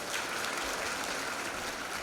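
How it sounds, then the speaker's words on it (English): Sustained applause from a large crowd at a graduation ceremony, dense and even clapping throughout without any voices standing out. "Give the graduate a warm round of applause"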